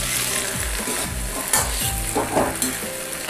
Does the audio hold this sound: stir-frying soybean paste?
yes